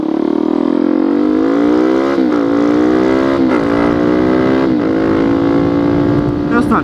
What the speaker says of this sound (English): That's not too bad acceleration.